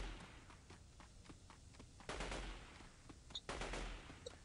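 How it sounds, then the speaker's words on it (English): Gunfire in the video game Delta Force 2, faint, distant bursts of rapid shots and scattered single cracks, with two louder volleys in the second half, no talk over them. "I wonder who is shooting at who right now."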